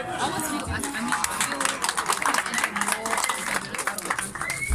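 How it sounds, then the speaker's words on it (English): Audience applause at a Namibia Independence celebration with Jamaican guests in March 2019: dense, steady clapping over several seconds, mixed with crowd chatter and voices. "A big round of applause."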